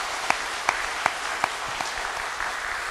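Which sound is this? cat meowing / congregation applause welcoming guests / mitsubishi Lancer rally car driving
congregation applause welcoming guests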